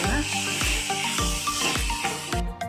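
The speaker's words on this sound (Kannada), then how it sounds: "ಖಾರದ ಪುಡಿ ಮತ್ತು ಗರಂ ಮಸಾಲ ಮಿಕ್ಸ್ ಮಾಡಬೇಕು ಫ್ರೈ ಫ್ರೈ ಆಡಿಸ್ಬೇಕು" Chili powder and garam masala frying in a hot pan, with a steady loud sizzle and hiss and regular rhythmic scraping strokes as the spice mix is stirred.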